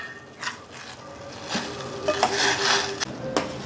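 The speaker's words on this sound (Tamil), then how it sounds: "இப்போ வந்து நல்லா மிக்ஸ் பண்ணிக்கலாம்." A spoon stirs a rose petal mixture in a cooking pot, soft scraping and clinking of utensil against metal with a few sharper taps, close and alone without talk.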